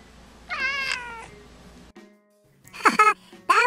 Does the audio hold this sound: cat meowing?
yes